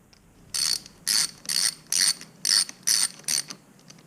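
Ratchet tightening bolts on a Suzuki RMX450Z four-stroke dirt bike, seven crisp clicking bursts in a steady rhythm, close and clear with no talking.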